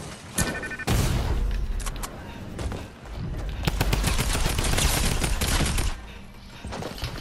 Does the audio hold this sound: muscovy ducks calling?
no